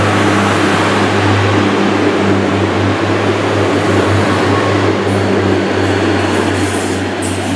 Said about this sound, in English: Off goes the Paignton train